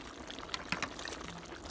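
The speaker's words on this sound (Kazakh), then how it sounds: "Міне осылай ыстық кезінде құйып алып жатырық" Hot lagman fry is poured into sterilized glass jars, giving a faint, soft trickle of thick liquid with a few small splashy spurts, heard close and quiet.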